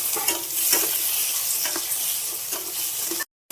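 Onions and tomatoes roast in a hot pan for a Maharashtrian baingan masala, giving a close, continuous sizzle with light stirring scrapes until an abrupt cutoff near the end.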